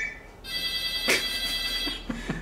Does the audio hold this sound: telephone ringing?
yes